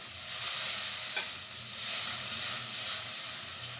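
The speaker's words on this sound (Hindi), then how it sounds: "अब मैं डालूंगी इसके अंदर टमाटर" Tomatoes hit a hot pan of oil for a spiced potato, bean and chickpea rice dish, giving a steady, close frying hiss that swells and eases in waves, with one brief clink partway through.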